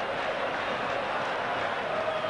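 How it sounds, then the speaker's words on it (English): A football stadium crowd roars steadily during Napoli v Milan, Serie A 1993-94, a dense, continuous wash of cheering and chanting heard from a distance. "They love it, the crowd do."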